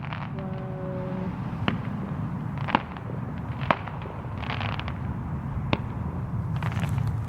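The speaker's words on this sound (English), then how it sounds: "I guess that's some fireworks." Fireworks going off at night, several sharp distant pops and cracks spaced a second or so apart over a constant low background rumble, faint and far away.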